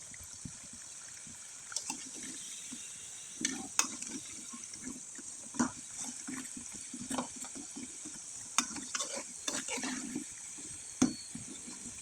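Thick pitha cakes made with papaya fry slowly in hot oil, giving a steady soft sizzle with intermittent stirring clinks and bubbling bursts, fairly quiet throughout.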